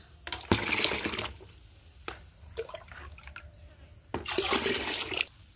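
Homemade plant fertilizer is mixed with cold water, giving close splashing and pouring bursts with quieter sloshing and drips in between.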